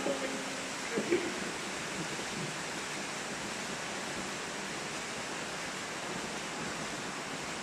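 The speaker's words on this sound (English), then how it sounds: "I get up to the waterfall." Steady broadband roar of an underground waterfall pouring inside the Newburn culvert, filling the enclosed tunnel continuously at close range, with a brief voice and a couple of knocks near the start.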